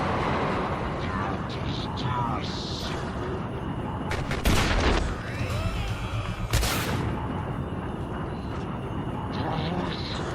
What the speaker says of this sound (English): Was that a rocket launcher? Yes, that was.